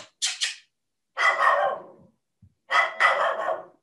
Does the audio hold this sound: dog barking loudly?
yes